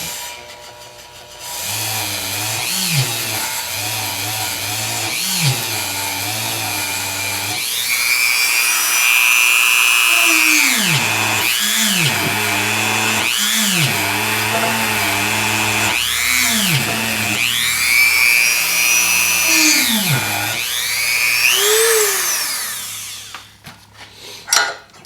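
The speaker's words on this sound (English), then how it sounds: "I'm just going to use a Dremel tool and a wire brush on the end of it and just run through here and clean these out" A Dremel rotary tool fitted with a wire brush scrubs out the A-arm bushing bores on a 2015 Wildcat Sport, its loud high whine rising and falling in repeated bursts as it is worked through the holes, with no talking.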